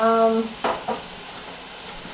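Food sizzles and is stirred in a cheap dollar store frying pan during meal prep, soft crackling with a couple of scraping stirs, briefly preceded by a voice.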